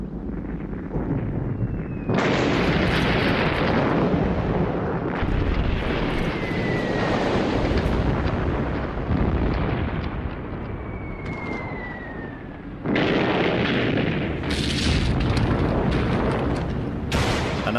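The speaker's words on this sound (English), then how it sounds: "An artillery barrage to soften up enemy positions would precede the infantry attack." A World War I artillery barrage before an infantry attack rumbles as continuous loud explosions and booming guns, with whistling shells passing overhead and dense sustained roaring blasts, no talking.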